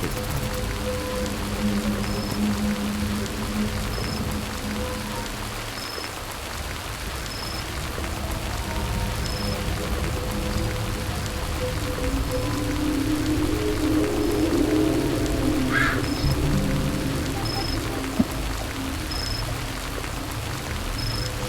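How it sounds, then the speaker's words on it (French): Rain falls steadily in a horror video game, a continuous patter with faint game tones and a soft low hum beneath. "Il pleut"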